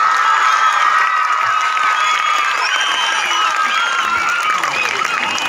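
An audience claps steadily at a school Sankranti festival celebration for the principal, with crowd noise, cheers and voices mixed into the dense applause throughout.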